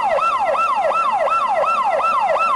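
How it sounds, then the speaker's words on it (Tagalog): A fire truck siren at Caloocan Fire Station wails loudly and steadily in repeated falling sweeps, about one every 0.4 seconds, with no voices over it. "umalingaw-ngaw ang sirena ng fire truck"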